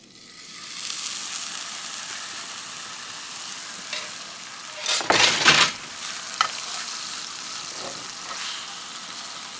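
Steak sears in a cast iron pan on a sloped outdoor cooking setup, a steady hissing sizzle swelling to a louder crackling burst midway as the meat is moved, then settling back to a constant fry.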